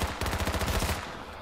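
Rapid automatic gunfire from the online battle royale game H1Z1, a tight burst of about a dozen evenly spaced shots fired close and loud, then cut off with a brief fading tail.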